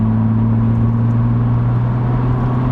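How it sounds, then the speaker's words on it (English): A BMW Z4 with its exhaust backbox deleted accelerates from 60 to 70 mph, heard from inside the cabin as a steady, loud low droning hum with road and wind noise and no talking. "so let's accelerate from 60 to 70 now"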